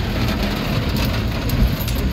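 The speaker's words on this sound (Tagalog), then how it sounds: "grabe talagang ulan dito" Heavy rain falls in Ayala, Cebu City, a dense, steady hiss with a low rumble of passing traffic underneath, and no voices.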